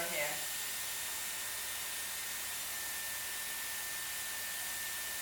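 A Dyson Airwrap hair styler runs with a steady, close airflow hiss and a faint high whine, unbroken throughout, after a brief soft click at the start.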